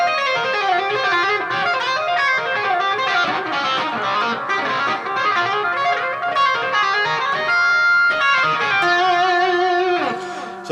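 A distorted electric guitar plays a fast, continuous lick with sustained notes and bends, loud and steady throughout.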